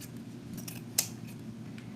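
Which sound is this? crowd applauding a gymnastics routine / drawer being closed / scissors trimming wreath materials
scissors trimming wreath materials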